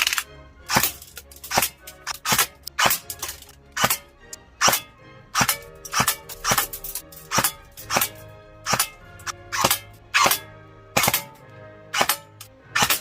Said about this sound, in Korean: 자, 비비탄 사격을 한번 해보겠습니다.